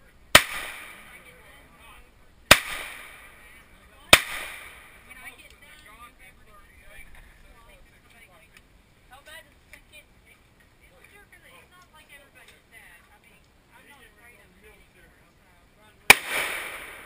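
Four sharp, loud gunshots from a .357 revolver crack out at an outdoor shooting range, three spaced closely at the start and one much later, with quiet murmuring voices in between.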